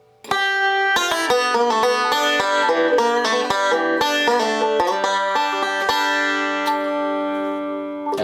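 Banjo pull-off passage played slowly for the bluegrass gospel tune "Standin' in the Need of Prayer", bright plucked notes ringing out in a steady, deliberate run, close and clear with no talking.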